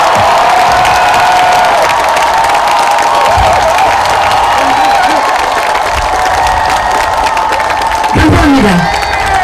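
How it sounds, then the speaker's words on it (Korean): A large crowd of supporters applauds and cheers at a presidential campaign launch, loud continuous clapping with whoops and shouts and a brief swell near the end. "큰 박수를 보내주시기 바랍니다."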